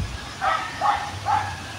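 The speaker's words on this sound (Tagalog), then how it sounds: "yung aso dyan tumatahol sa banda" A dog barks three times in an even rhythm, somewhat distant, over a low background hum.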